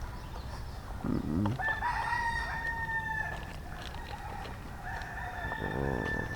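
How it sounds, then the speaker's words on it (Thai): At a Thai forest temple, several roosters crow in long drawn-out calls, overlapping near and farther off, with scattered clucking from chickens in between. "ภายในวัดหลวงตา โอ้ เสียง ไก่ เยอะ แยะเลย"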